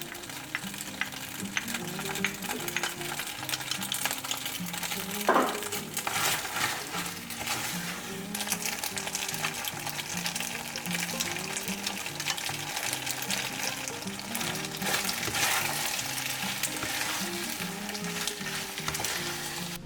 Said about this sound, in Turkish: Birazcık karıştıracağım. Yaklaşık 30 saniye.